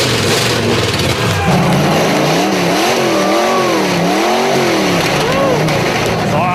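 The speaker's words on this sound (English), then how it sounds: "the Challengers are ready to see if their engine will fire up" A freshly installed engine in a 1986 Chevrolet El Camino fires up in a shop and revs repeatedly in rising and falling swells, loud and close, with people talking and shouting over it.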